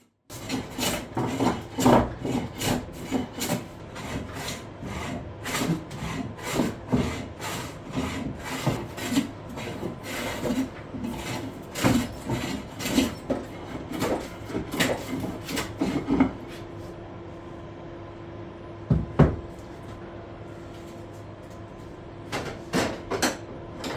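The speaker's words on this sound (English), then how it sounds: "Next, I brought my Stanley hand plane, which I had previously restored." A restored Stanley hand plane shaves a walnut slab in repeated rasping strokes, a steady back-and-forth rhythm, close and fairly loud, then a pause with a low hum before a few more strokes.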